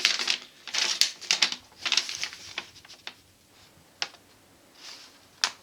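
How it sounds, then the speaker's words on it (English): Tape peeled off a cardboard box in several close crackling rips and short clicks, loud bursts early that thin out to a few isolated snaps. "Get this piece of tape off from here"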